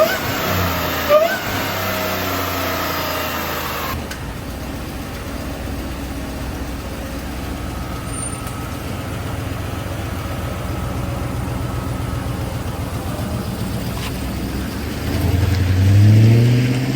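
A supercharged Hellcat 5.7 engine fitted in a ute fires up and settles into a steady, rumbling idle, loud and close, with a brief rev swell near the end.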